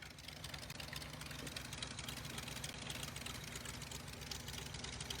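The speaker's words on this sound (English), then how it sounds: "Motor's dead quiet." A revived dead Jeep being built into a rock crawler idles with a worn carburetor. The engine runs very faintly and evenly, a low steady murmur with no changes in pace.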